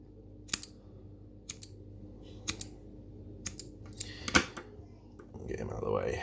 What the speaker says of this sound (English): I am going to quickly get that a snip off, just to make it a little bit tidier when I put it through.